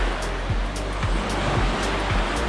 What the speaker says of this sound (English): And there is a beach here, so let's go and have a look.